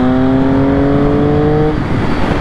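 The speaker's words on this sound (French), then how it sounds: "Vous pouvez entendre le petit sifflement signé Triumph" A 2008 Triumph 675 Street Triple R under way gives a thin rising mechanical whistle from its engine, close and loud, over heavy engine and wind rush that continues after the whine fades.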